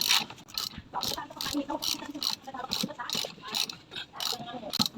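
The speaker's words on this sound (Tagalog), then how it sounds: "Yan, rachet. Maganda yung rachet pang ano, pampahigpit at pagpaluwag ng mga tornilyo." Rapid ratchet wrench clicking in repeated bursts while tightening or loosening screws during an e-bike drum brake replacement, close and fairly loud, with some speech-like sound mixed in.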